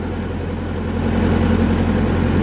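A loud, steady Fora 904 tractor engine idles with a low, throbbing rumble that swells slightly toward the end.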